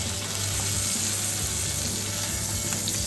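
Steady, even sizzling of a Devonshire veal chop pan frying, a continuous close crackle and hiss with no pauses and no talking.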